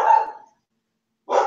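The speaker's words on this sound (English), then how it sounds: "Dogs bark." A dog barks twice in the background of an indoor stream, two short, fairly loud barks separated by about a second of silence.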